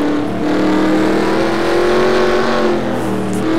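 An onboard race car engine in a racing video game gives a loud, steady high-revving drone that rises and falls slightly and runs continuously throughout.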